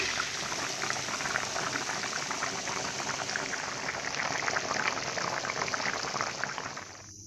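Meat and potato curry simmering in a pot just after water is added, a dense steady bubbling hiss that is close and constant and stops abruptly at the end, with no one speaking.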